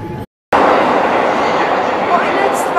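A train in Tokyo, Japan, rumbling past close by as a loud, steady broadband roar after a brief moment of silence.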